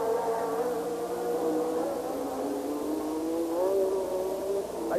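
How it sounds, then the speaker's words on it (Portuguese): A Ferrari Formula 1 car races at the Monaco Grand Prix, its engine a high, buzzing whine that swells and climbs in pitch as it revs, loud and steady with no talking. "Aí o motor da Ferrari fala muito."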